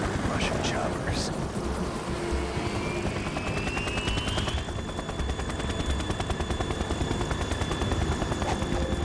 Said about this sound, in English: Russian choppers.